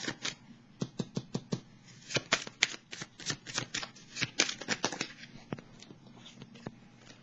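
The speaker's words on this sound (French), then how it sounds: "je vais piger une carte ici pour danger et autorité" Tarot cards being shuffled and drawn, a run of close, crisp riffling flicks and snaps in an uneven rhythm, fairly loud and clear with no talking over them.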